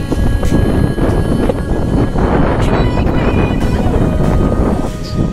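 Wind blowing steadily beside a very large river in rainy weather, a loud, dense broadband rush buffeting the microphone throughout, with low rumbling gusts and no clear voices.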